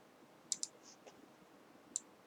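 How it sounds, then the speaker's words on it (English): Computer mouse clicks while a PowerPoint flow chart is edited: a quick double click, then a single click about a second later, sharp and close in a quiet room. "You can change it with clicking on it with the left click and then the right click."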